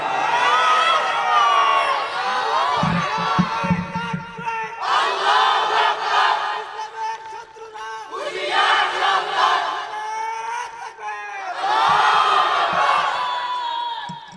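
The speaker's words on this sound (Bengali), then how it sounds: "আরেকবার তাকবীর দিয়ে দেখাও মুসলমান" A large crowd at a religious gathering chants the takbir, roaring 'Allahu Akbar' in four loud, rhythmic collective bursts separated by brief pauses, the massed voices close and full.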